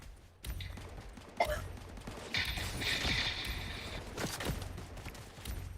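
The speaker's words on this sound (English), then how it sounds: "Oh, I hear gunshots." Gunfire in a video game: a loud sharp crack early on, followed by sustained bursts of rapid shots and clattering mechanical noise that continue through most of the clip, with no talk.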